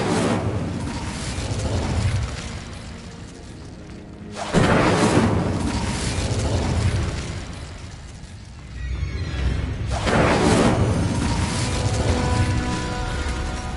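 In Hogwarts Legacy, the Incendio fire spell flares in three loud whooshing surges, each a broad roaring burst that swells and slowly fades before the next, with no talking.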